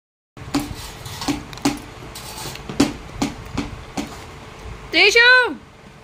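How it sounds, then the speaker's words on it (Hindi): Plates and dishes are picked up in a home setting, giving a series of sharp, separate clinks and clatters at an uneven pace, close by, followed by a short vocal sound at the end. "मेरे भाई इसके आगे से प्लेट उठा ले"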